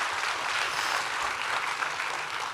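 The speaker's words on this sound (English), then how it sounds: "You can clap freely, dil se." A large audience applauds with dense, sustained clapping that stays even and loud throughout, without talk over it.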